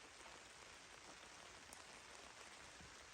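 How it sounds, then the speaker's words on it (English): Light rain patters steadily on a van's awning during solo car camping, a soft, even hiss of drops that holds through the whole stretch, with a couple of slightly louder taps near the end. "It's actually like light rain now."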